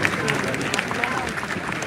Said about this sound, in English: I said a nice round of applause